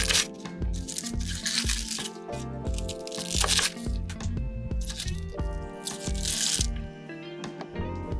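A knife chops cabbage into large chunks on a cutting board for tteokbokki, a close series of crisp, irregular crunching cuts interspersed with brief pauses and no talking.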